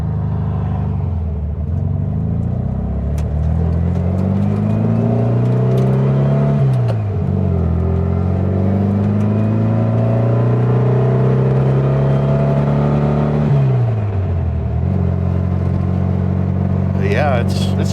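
An old Volkswagen Beetle engine, not run for a while, warms up and drives at sunset, its air-cooled rumble climbing and falling through gear changes, loud and close throughout, with brief talk near the end.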